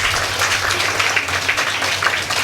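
An audience at a summer-class closing ceremony in Salem bursts into sustained applause for the organisers, dense and loud clapping filling the hall without pause.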